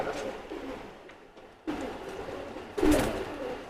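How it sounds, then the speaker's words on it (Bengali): A male Teddy pigeon coos in a few soft, throaty bursts, close by and fairly quiet, with brief gaps between calls and a louder coo near the end. "এটা নর কবুতর"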